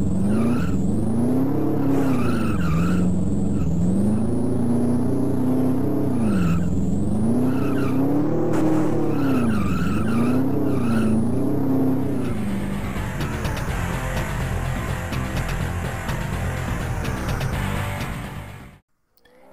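Engine whine and tyre skids from a car drifting in a Commodore Amiga racing game, a loud continuous tone rising and falling through repeated slides, then a denser rumble before cutting out abruptly.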